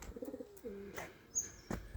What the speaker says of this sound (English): He's our pet pigeon.